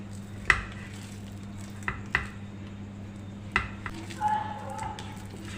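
Gulab jamun mixture is stirred and mixed in a pan. A spoon makes a few sparse clinks and soft scraping taps against the metal over a steady low hum.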